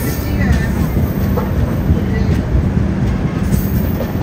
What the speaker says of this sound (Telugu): ఏదో ట్రైన్ అయితే వస్తుంది ముంబై సెంట్రల్ టు బుస్వాల్